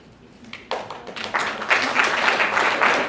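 An audience at a university talk event breaks into clapping, starting faintly and quickly building to steady, dense applause from a crowd.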